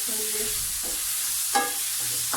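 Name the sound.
chicken frying and being stirred in a pan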